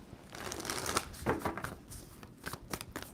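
Tarot cards being shuffled close up, a run of papery riffling bursts and soft slaps in irregular rhythm, fairly quiet with no talking.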